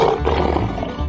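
A cartoon lion gives a single loud, close roar lasting about a second, clear and alone without talk, amid a game of giant cartoon animals splashing in a fountain.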